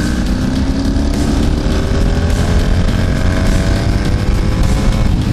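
A Honda V65 Magna and a Suzuki GV1200 Madura motorcycle accelerate hard together, a loud, continuous engine roar with rising pitch close by, no voices.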